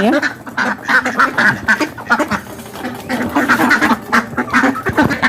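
Ducks quack repeatedly and loudly nearby, a busy overlapping chorus of nasal calls that carries on throughout.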